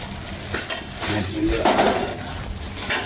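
Turmeric powder is stirred into hot ghee in a pan while making amla lehyam, with a steady close sizzle broken by scraping and the clink of a utensil against the pan, no voices.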